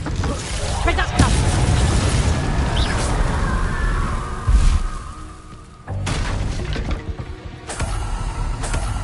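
A Reducto explosive spell blast in Hogwarts Legacy on PS5, a heavy booming burst amid dense game effects and rumble, with a sharp impact near the middle and continued mechanical crackle after.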